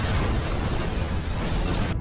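A car explosion in a revenge gangster film, heard as a loud, sustained roaring blast with dense low rumble that fills the whole stretch before cutting off abruptly at the end.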